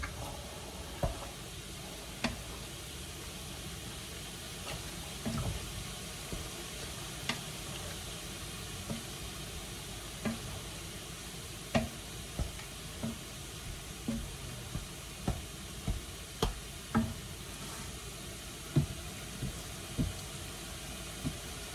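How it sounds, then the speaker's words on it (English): Beans are mashed in a pan beside sizzling meat, a steady frying hiss broken by regular soft knocks and scrapes of the masher against the pan, close and continuous. "And I'm just mashing the beans a little bit."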